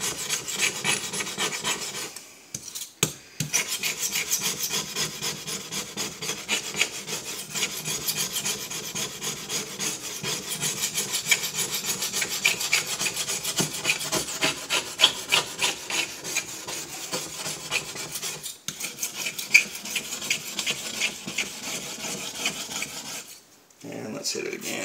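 A scraper blade rasps steadily across a glass stovetop wetted with Simple Green, giving continuous gritty back-and-forth scraping strokes that are loud and close, with brief pauses.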